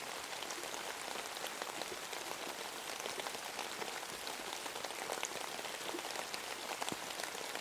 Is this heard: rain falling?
yes